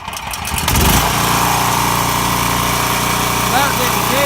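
A Champion generator is pulled over and catches, rising from a sputtering start into a loud, steady running drone close by.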